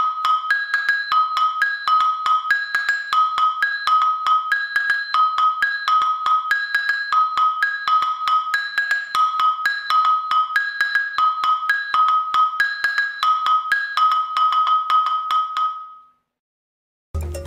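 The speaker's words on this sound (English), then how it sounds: "This is the sound of agogo." Agogo bell, the high-pitched West African Yoruba single or double bell used in samba bateria, rings out a steady repeating two-tone pattern of bright metallic strikes, loud and close, alone until it stops near the end.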